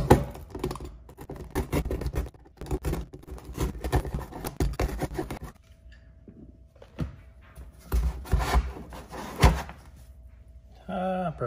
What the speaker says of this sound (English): Go ahead and cut it out with the box cutter.